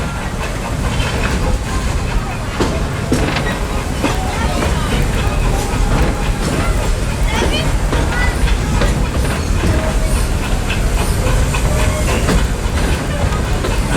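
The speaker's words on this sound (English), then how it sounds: "There are some who say that this steam train is a little old-fashioned, but for me, it's the only way to travel." Walt Disney World Railroad steam train running, a steady loud rumble with rail clatter and hiss throughout, with voices talking over it.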